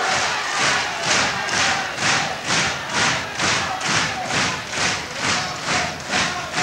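A large live crowd roars at a 1984 British professional wrestling bout, the noise swelling in rhythmic surges about twice a second like chanting or stamping, loud and steady with no talk over it.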